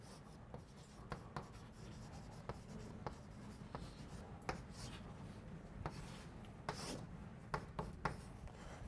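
Chalk or marker scratches and taps on a board during a university calculus lecture, soft and close, with scattered strokes and clicks at an irregular pace over a quiet room.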